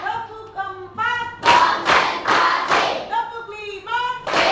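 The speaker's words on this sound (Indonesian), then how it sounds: "Tepuk satu, tepuk dua, tepuk tiga, tepuk empat," Classroom clapping in counted rounds, close and loud, as a teacher's chanted count alternates with sharp bursts of clapped beats from the class.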